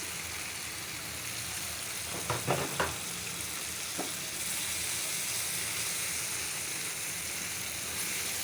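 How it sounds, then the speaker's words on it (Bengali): Small shrimp go into a pan of cooked-down spice masala for a Bengali chingri bhuna, a steady moderate sizzle with a few brief clatters and stirs early on before the frying hiss settles and continues alone. "এখন চিংড়ি মাছটা আমি দিয়ে দেবো"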